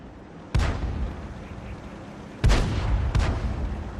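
A tank cannon in World of Tanks fires three sharp booms, one early and two close together near the end, each with a short rumbling tail over low ambient game noise.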